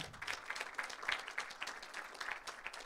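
An audience at an association meeting applauds its president, a soft, steady patter of many hands clapping that stays fairly distant and quiet throughout.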